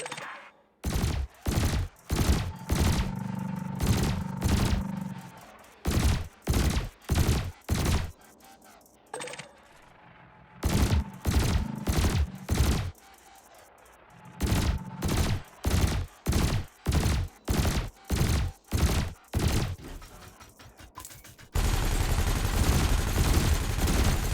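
Spaceship cannons in Elite Dangerous fire in loud volleys of evenly spaced shots separated by short pauses, then give way to a steady engine-like rumble.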